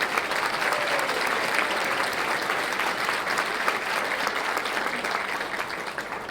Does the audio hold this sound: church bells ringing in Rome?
no